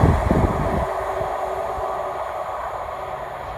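A British Rail Class 153 diesel train passes through Moses Gate station, a loud rumbling rush at the start that settles into a steady, gradually fading roar of wheels and engine.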